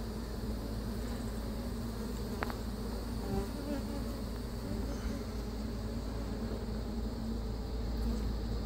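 Honeybees buzz in a constant dense drone as a hive is removed from a mobile home in Florida, a steady swarm hum with no pauses and no talking.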